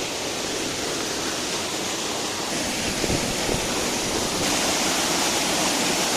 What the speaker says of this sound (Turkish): Son bir defa şelalemizi görelim.